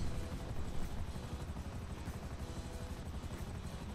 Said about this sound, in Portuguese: esses helicópteros são chatos